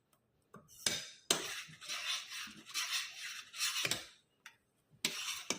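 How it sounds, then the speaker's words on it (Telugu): A spoon scrapes and clinks around a pot while ragi java with dry fruits is stirred, giving several separate rasping strokes with short pauses between them, close and fairly quiet. "బాగా దీన్ని కలుపుకోవాలి."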